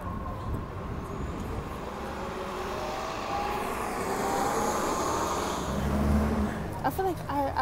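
Shuttle buses and other vehicles roll past in Toronto city traffic, a steady road roar swelling as one passes close, with a brief voice near the end.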